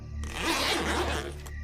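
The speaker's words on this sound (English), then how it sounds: "I heard the sound of the zipper to the tent zipping down." A tent zipper is pulled down in one long, continuous rasp close by for over a second, steady and fairly loud, ending abruptly.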